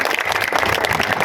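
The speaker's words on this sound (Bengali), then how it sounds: "একটা জোরে হাততালি দেবেন সবাই মিলে" A crowd of people applauding at a rally, a brief burst of dense, continuous clapping heard up close.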